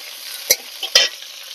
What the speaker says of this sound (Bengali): আলুগুলোকে দেওয়ার পরে একটু নাড়াচাড়া করে একটু সময় ভেজে নিতে হবে।